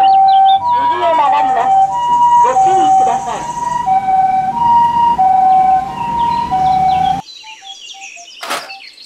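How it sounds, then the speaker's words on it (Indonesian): A toy ambulance's wailing siren cycles steadily up and down, loud and close, then cuts off, leaving a brief sharp burst and faint chirps. "ambulan."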